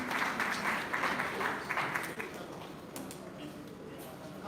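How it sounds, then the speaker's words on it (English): Audience applause for panelists at a crime reduction and prevention summit of Nigerian paramilitary and security groups, a dense steady clapping that fades after about two seconds into a softer room murmur. "A round of applause for all our panelists"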